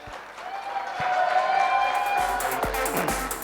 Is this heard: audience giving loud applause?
yes